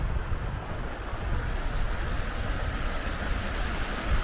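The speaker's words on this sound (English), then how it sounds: "Plenty of flowing water." Water runs steadily in a clear stream near a bothy at a wild camp in windy weather, a dense continuous rushing wash, close and fairly loud, with no voices.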